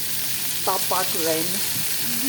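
Potatoes fry in hot oil in a pan with a continuous, close sizzle, while brief voice sounds rise over it.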